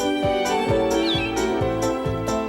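A cat meows in a kitchen, giving several drawn-out cries at a fairly even pace, close and clear over a faint background hum.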